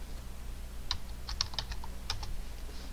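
Someone types a command on a computer keyboard, giving a short run of light, irregular key clicks over a low steady hum, with no talk.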